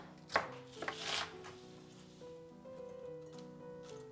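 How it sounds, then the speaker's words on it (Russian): A knife thinly slices a crisp bell pepper on a board, a few quick slicing chops near the start followed by quieter handling sounds. "я нарежу тонкой стружкой 1 болгарский перец."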